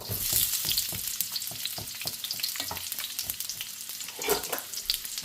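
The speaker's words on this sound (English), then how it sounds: "Vegetable oil, give ourselves a good slug, and we'll go straight in with our onion." Onion hits hot vegetable oil in a pan and sizzles loudly and continuously, with crackling spatters and stirring scrapes close up.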